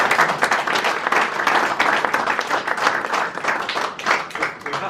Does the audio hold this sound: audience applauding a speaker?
yes